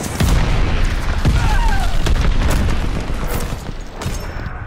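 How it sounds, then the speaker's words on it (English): Mortar fire and explosions in the video game Call of Duty Vanguard: loud booms and sharp gunfire bursts pile up into a steady battle roar, with scattered blasts standing out near the end. "Heads up! Allied mortar fire coming."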